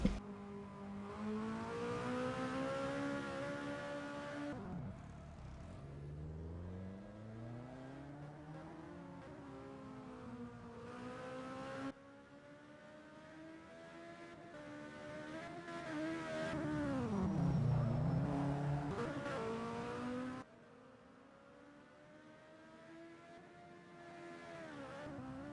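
Several open-wheel race cars in a sim racing game at the Mexican GP circuit, Fundidora, their engines droning and rising in pitch through upshifts and revs, sustained and fairly loud with passing changes in tone.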